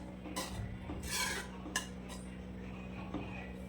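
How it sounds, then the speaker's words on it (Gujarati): A spoon stirs a garlic mixture into pav bhaji vegetables in a pan, giving scraping and clinking metal sounds in bursts, with a couple of sharper taps and a steady low hum underneath. "તેને આપણે આ શાક પર નાખી દઈશું અને એને બરાબર મિક્સ કરી લઈશું."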